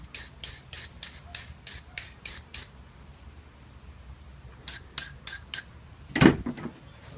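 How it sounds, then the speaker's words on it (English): Short bursts of a high-pitched whirring wire brush on a Dremel rotary tool grinding against metal, a quick run of repeated passes, a pause, then a few more. "With a Dremel tool, it's much easier, you know, like a wire brush on a drill"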